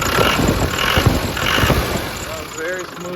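A 1997 Land Rover Defender 110 with a 300Tdi diesel engine running, with a squeaking pulley tensioner: a low, rhythmic, pulsing engine chug throughout, moderately loud, with someone talking over it near the end.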